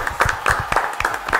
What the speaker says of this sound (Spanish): Un fuerte aplauso, ¿verdad?